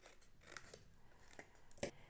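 Scissors snip through a small paper treat bag tab in a few crisp, close cuts, with the sharpest snip at the end, against a quiet room.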